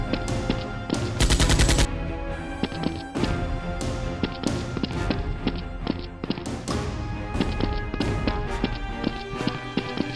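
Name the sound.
Nerf guns firing in action fight scene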